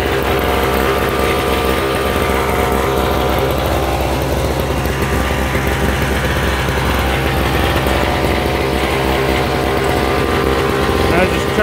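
A Yard Machines 5.5 hp two-stroke snowblower engine runs loud and close, a steady, unbroken buzzing drone throughout.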